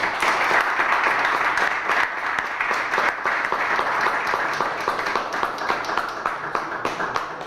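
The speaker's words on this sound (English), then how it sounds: "Standing ovation. A roar from the crowd." A crowd at a newspaper relaunch event in Toledo gives a standing ovation, sustained dense applause with crisp individual claps throughout, loud and steady for over seven seconds.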